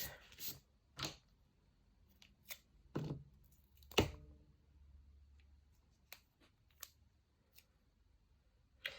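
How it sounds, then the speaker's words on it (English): Small craft scissors snip double-sided sticky tape in a series of quick, quiet cuts, spaced irregularly, close by in an otherwise quiet room. "tiny crafting scissors weren't the best idea, especially when I'm trying to round the corners"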